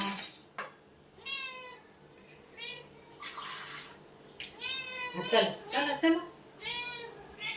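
A cat meows repeatedly at close range, several drawn-out cries in a row, with running water in the background and a voice speaking briefly.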